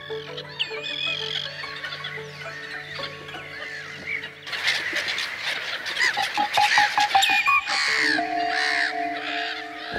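Birds at Žuvintas lake, a wetland bird reserve, calling from several directions: harsh caws and clucking calls over layered chirps, growing into a dense burst of overlapping cries midway, fairly close and clear.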